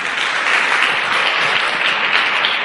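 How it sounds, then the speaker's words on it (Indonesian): An audience at an Indonesian business seminar bursts into loud, sustained applause, a dense wash of clapping that holds evenly throughout with no talk over it. "Tepuk tangan buat One Vision."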